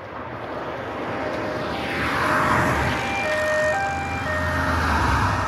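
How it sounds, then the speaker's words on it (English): Busy city street surroundings in immersive 8D sound: a steady, loud wash of traffic roar fills the whole stretch, swelling slightly midway, with faint siren-like tones drifting through and no talking. "The experience puts participants in the middle of a busy city environment"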